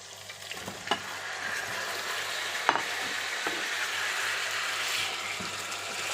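Chopped tomatoes sautéing in oil over ginger-garlic paste for a sea bass curry, a continuous moderate hiss with a few sharp utensil knocks against the pan.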